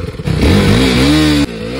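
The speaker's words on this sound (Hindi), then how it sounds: "तो भाई आप पहले मेरे को सुनाओ इसका एग्जॉस्ट।" A KTM RC 390 motorcycle's exhaust revs loudly up close, a throaty engine burst climbing in pitch, holding, then dropping off abruptly before idling on.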